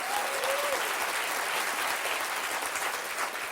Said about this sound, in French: Oui, ça mérite des applaudissements.